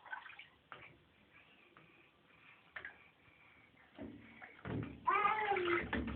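A small child splashes water in a bath, with scattered soft sloshes that build into louder splashing near the end, followed by a voice talking.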